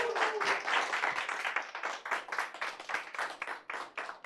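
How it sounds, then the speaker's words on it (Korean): An audience at a Korean book forum talk gives a burst of clapping, many hands applauding together in a lively, sustained round that gradually thins out. "크고 정확한 박수 부탁드릴게요"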